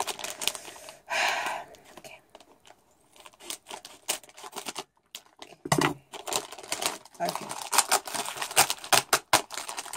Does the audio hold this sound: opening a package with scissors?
yes